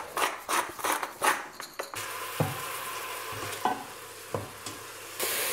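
Onions sweating in olive oil in a pot for a cheap one-pot broccoli pasta, with a soft steady sizzle and occasional spoon stirs and scrapes clicking against the pot, close by and without talk.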